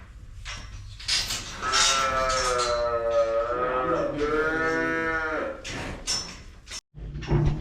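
A cow in a soiled pen on a Nebraska cattle ranch lets out a long, loud, close moo lasting several seconds, with scattered clatter and faint human sounds around it.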